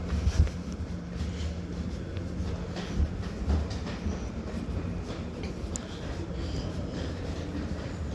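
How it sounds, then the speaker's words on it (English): A double-headed Chiltern Railways Class 168 diesel multiple unit train departs High Wycombe station, rumbling away steadily with low engine drone and faint clatter of wheels, heard from the platform with a few distant voices. "that double-headed Chiltern Railways Class 168 departs High Wycombe now"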